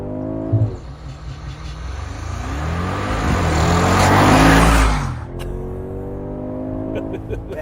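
A Mercedes-AMG G63 launches hard on launch control, its engine note swelling into a loud, rising roar that peaks and then eases off, with a short voice heard at the start.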